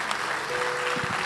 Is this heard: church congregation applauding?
yes